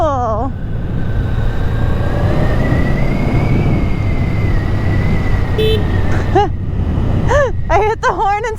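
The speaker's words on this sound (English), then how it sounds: "I hit the horn instead of the blinker" A rented motorcycle's horn on a Tennessee ride honks once and then several times in quick succession near the end, loud and close over a steady engine and wind rumble.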